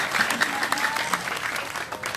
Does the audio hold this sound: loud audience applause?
yes